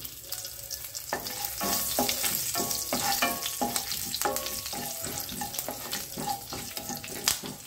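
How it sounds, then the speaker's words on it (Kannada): Mustard seeds and curry leaves crackle in hot oil as a tempering is made for a Melukote temple-style prasada, with dense, close sputtering pops over a steady sizzle. "ನೋಡಿ, ಸಾಸಿವೆ ಎಲ್ಲ ಚಟಪಟ ಅಂತ ಸೌಂಡ್ ಬರ್ತಾ ಇದೆ."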